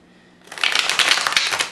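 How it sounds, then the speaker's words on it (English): A large, heavy Minchiate tarot deck is shuffled by hand, giving a close, loud riffling flutter of cards that starts after a quiet moment and runs on briefly. "So let's try and shuffle these."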